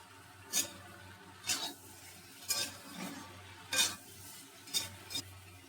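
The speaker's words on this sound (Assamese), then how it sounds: "বিলাহী ঢলাৰ পিছত অলপ দেৰি সিজিব লাগিব বিলাহীখিনিও" Tomatoes cooking in a pan for a meat curry, with quiet regular stirring strokes scraping about once a second over a soft, low sizzle, close and with no talk.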